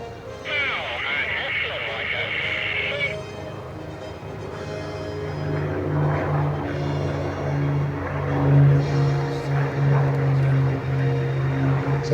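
A Spitfire and a Hurricane from the Battle of Britain Memorial Flight pass diagonally over Weston Park at an airshow, their piston engines droning and building to a louder, throbbing hum while a person talks and a loudspeaker commentary sounds faintly.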